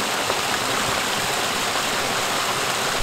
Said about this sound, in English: That's the best waterfall I've ever been to in my entire life.